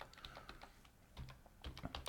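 Typing on a computer keyboard set to English, a quick patter of individual key clicks in short bursts with a brief pause in the middle, close and fairly faint with no voices.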